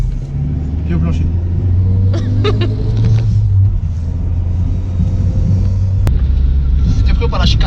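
A Renault Twingo engine rumbles and revs as the car weaves through chicanes, loud and steady from inside the cabin, with people talking over it.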